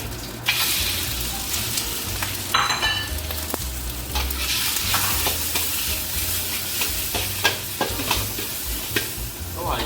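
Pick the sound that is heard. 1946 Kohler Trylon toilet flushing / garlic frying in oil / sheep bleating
garlic frying in oil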